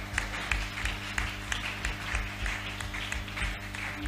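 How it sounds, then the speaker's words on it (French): A church congregation applauding, steady rhythmic clapping from many people at moderate volume, sustained and even, over a low background hum. "Acclamons très fort pour le roi des rois."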